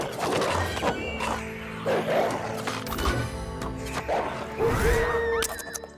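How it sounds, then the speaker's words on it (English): Cartoonish puppies bark and yip repeatedly in the Sintopia video game, several short barks in bursts over a busy, loud backdrop of game music and crashing effects. "Very, very bad puppies."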